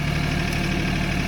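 A 26 horsepower Mahindra tractor engine idles steadily, a loud, close, even low-pitched diesel drone with constant rumble and no variation across the short stretch.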